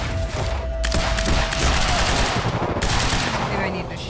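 Gunfire rattles continuously in the Quantum Break video game, dense fusillades of rapid shots and thuds layered over battle noise, loud and close throughout.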